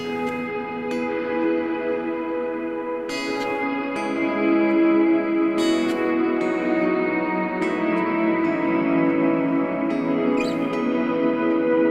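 Electric guitar playing open triad voicings drenched in ambient effects, sustained chords blooming into a wide, washy wash of reverb and echo, with occasional sharper picked attacks, steady and fairly loud throughout with no talking.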